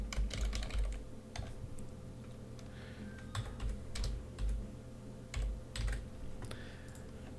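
Keys clatter on a computer keyboard while a name is typed into form boxes on a PDF proof, quick irregular bursts of taps with short pauses between them, close and fairly quiet.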